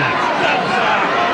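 A packed wrestling crowd roars inside Hemel Hempstead Pavilion, a loud, dense wash of voices that holds steady throughout the brief moment.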